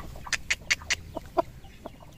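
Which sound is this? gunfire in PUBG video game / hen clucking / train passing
hen clucking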